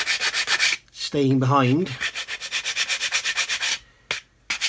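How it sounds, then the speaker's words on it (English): Sandpaper rubbing paint off the edges of a model kit part, a steady run of quick scratchy back-and-forth strokes close up, broken briefly by a short spoken phrase. "You can see on there where we're sanding, where the paint is"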